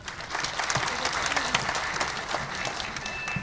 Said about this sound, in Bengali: একটা জোর হাততালি দিতে চাই